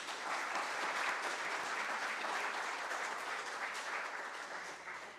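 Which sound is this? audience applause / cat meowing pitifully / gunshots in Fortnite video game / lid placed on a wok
audience applause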